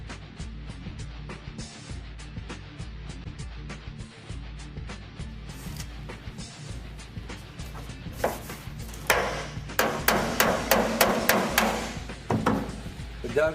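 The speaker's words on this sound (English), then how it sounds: "using your hammer, you'll stick the dolly on the back side and hammer it down flat to make the surface come straight." A hammer and dolly flatten a car's bare metal bodywork, starting with light scattered taps and building to a quick series of sharp, ringing metallic strikes near the end.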